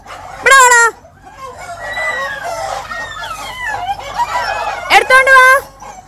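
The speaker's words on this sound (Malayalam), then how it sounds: "ചാടിപ്പോയ കോഴിയെ പിടിക്കുന്നതാണ് എന്റെ കുഞ്ഞിന്റെ ജോലി" A chicken that had escaped squawks and clucks loudly up close while being caught, with sharp harsh cries at the start and end and excited people talking throughout.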